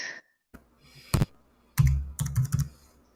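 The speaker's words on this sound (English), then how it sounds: "now I hear typing" Short clusters of computer keyboard typing heard over a call line: a few isolated key taps, then a quicker run of clicks, close and fairly crisp, with brief silent gaps between bursts.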